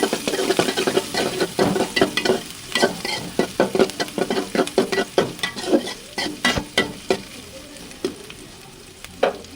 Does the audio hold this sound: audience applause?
no